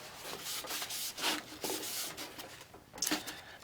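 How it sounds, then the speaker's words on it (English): A cloth rubs wood stain into, then wipes it off, a name stamped into a wooden woodworking project: soft, close, uneven strokes of rubbing and scraping lasting a few seconds. "So I'm rubbing in, getting the stain in my name right here. And wipe it off."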